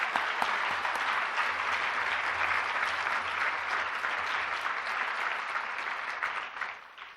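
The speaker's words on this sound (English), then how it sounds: "Let's give those sponsors another round of applause." An audience at a state arts address gives the sponsors another round of applause, a broad, even roar of many people clapping that holds steady, then tapers slightly toward the end.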